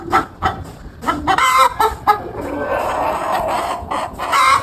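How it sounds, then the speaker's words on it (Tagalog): Several hens cluck and squawk loudly in a backyard coop while one is laying an egg, with the agitated calls coming in bursts and overlapping near the microphone. "Baka nagrereklamo, nangingitlog kasi itong isang inahin."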